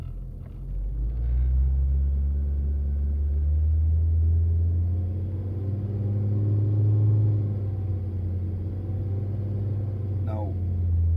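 Car engine revving as the accelerator is pressed, a steady low rumble that swells and eases over several seconds, close and fairly loud.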